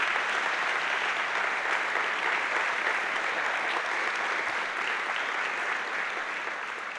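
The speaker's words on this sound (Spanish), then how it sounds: "Den un fuerte aplauso a Jesús." A church congregation at an annual retreat service claps loudly and steadily throughout, a dense, continuous wash of applause from many hands with no break.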